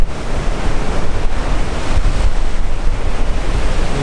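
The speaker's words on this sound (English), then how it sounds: "in between the waves that are breaking over at the moment" Sea waves breaking over a rock off Green Island make a continuous loud roaring wash of surf, churning steadily with wind noise buffeting the microphone throughout.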